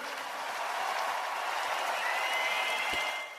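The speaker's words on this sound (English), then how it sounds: "Ladies and gentlemen, another round of applause for these two tonight." Applause for two boxers after a fight, a dense, steady wash of clapping from an arena crowd that rises slightly, then fades at the end, with no clear talk.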